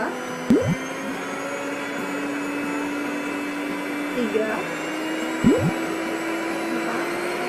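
A Mito MX 200 electric hand mixer whirs steadily on its first speed setting, a smooth, even motor hum. A person talks over it at moments.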